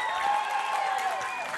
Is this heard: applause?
yes